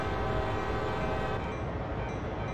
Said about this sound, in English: There's a train going.